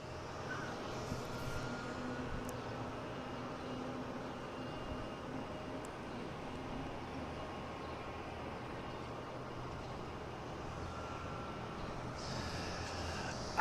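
An airliner departs Boston Logan International Airport bound for London Heathrow, a steady, fairly distant jet-engine roar holding constant throughout with no talk.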